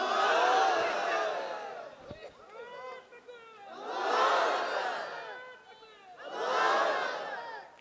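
A large crowd at a religious political rally shouts takbir in unison, three loud massed roaring bursts swelling and fading with brief quieter gaps of scattered voices between them.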